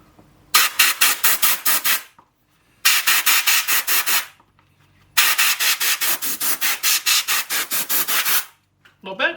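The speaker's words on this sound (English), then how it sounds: "Let's just see if there's any more dust coming out from using my air compressor." An air compressor blows dust out of an air filter in three runs of rapid, pulsing hissy blasts, loud and close, separated by short pauses.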